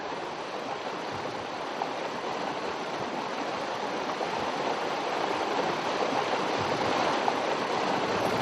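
Divide Creek flows in a steady rushing stream, a dense, even hiss of running water that stays unbroken and fairly loud throughout, with no voices.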